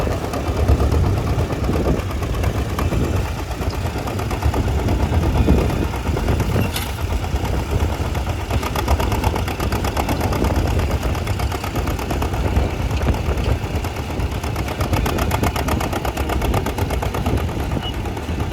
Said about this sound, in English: Justin Edelman of Iowa competing with a John Deere AR, pulling a John Deere Model 4B plow equipped with EP bottoms